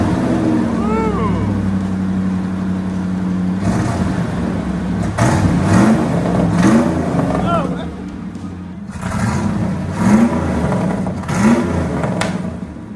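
An old project car's engine revs through side-exit exhaust with a boom tube, giving deep, loud rising blips and a rumbling idle between them, while people talk over it up close.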